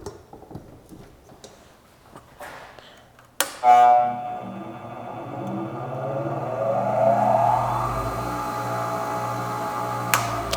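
A brand-new Delta bench grinder with unbalanced wheels clicks on after a few quiet seconds of handling, then spins up with a sharp surge into a steady whirring hum that keeps running evenly.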